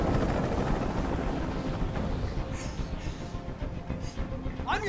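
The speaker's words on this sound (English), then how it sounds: "Tell that helicopter to get out of here." A helicopter hovers overhead in the video game Detroit: Become Human, its dense rotor and engine roar filling the scene loudly and continuously without a break.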